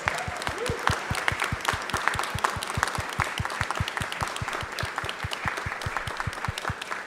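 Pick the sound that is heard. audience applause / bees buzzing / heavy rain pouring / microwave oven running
audience applause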